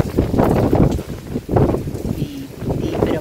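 Strong storm wind gusts in Chennai during heavy monsoon rain, blasting the microphone in loud, rumbling surges that rise and drop several times.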